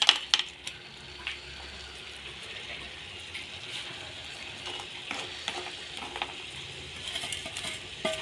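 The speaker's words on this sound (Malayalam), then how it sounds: "ഇനി നമുക്കിതിലേക്ക് പൊടിച്ച് വെച്ചിരിക്കുന്ന ശർക്കര ഇട്ട് കൊടുക്കാം" Powdered jaggery goes into cooking banana pieces in a pan for a traditional Kerala sweet, with a soft frying hiss under faint scraping and stirring and a few light clinks.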